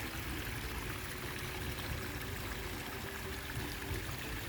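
Steady rushing water in a man-made creek swollen by rain, flowing continuously, a dense even wash of sound with no pauses or voices.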